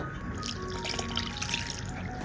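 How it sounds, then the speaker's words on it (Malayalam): Water poured steadily into flour batter for puri, a close, continuous trickling and splashing. "ഒന്ന് കലക്കിയതിന് ശേഷം ബാക്കി വെള്ളം ഒഴിച്ചു കൊടുക്കാം"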